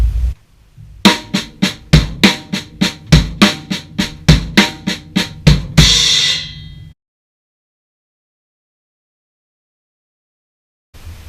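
Slowly spaced right-left-left-kick drum lick, evenly paced snare hits with low kick thumps, closing on a loud cymbal crash that rings out, then silence before a brief sound at the end.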